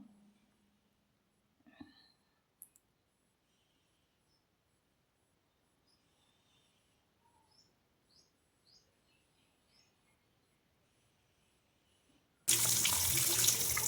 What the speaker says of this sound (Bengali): তারপর এগুলোকে জল দিয়ে একদম পরিষ্কার করে ধুয়ে